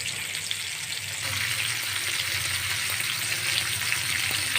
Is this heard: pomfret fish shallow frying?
yes